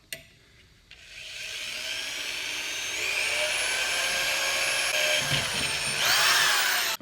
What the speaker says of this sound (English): I'll bore the holes out a little bit in case they're not.